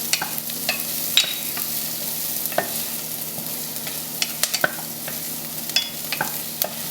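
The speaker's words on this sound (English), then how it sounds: "Now that our onions have been sauteing for a couple of minutes, I'm going to add our garlic" Onions and garlic sauté in a pan with a soft, continuous sizzle, punctuated by scattered clicks and scrapes of a utensil stirring, close and moderately quiet with no talking.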